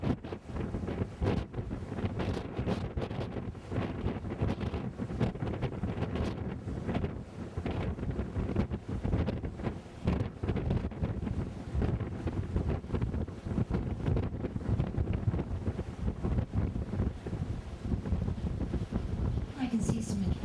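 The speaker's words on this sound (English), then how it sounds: "We are sailing into the wind, and these cold winds are emanating off of the beautiful glaciers" Cold wind blowing across a ship's deck while sailing into the wind near Alaskan tidewater glaciers in Prince William Sound, a steady loud rushing buffet against the microphone throughout, with faint talk beneath.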